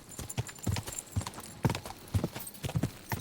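Horse hooves clip-clop on the ground in the video game Kingdom Come: Deliverance II, an uneven run of close, moderately loud hoofbeats with no talking over them.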